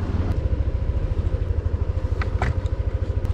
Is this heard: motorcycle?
yes